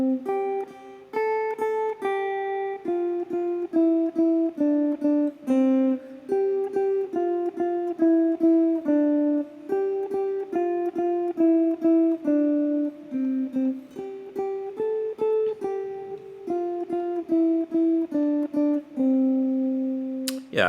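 A guitar plays Twinkle Twinkle Little Star as a chord-melody, with clear plucked notes and strummed chords in a steady, even rhythm, played solo and close.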